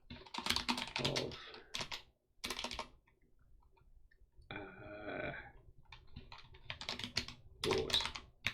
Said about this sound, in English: not very exciting typing happening here